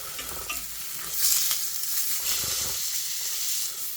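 A steak fries in a pan with a steady broadband sizzle that swells briefly partway through, close and continuous with no talking.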